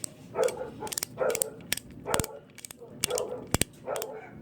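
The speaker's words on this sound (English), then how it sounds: "Alright, we're gonna tighten this down." Ratchet wrench tightening a bolt on a GY6 scooter engine, giving several quick bursts of sharp clicking strokes at close range, separated by brief pauses, with faint background noise.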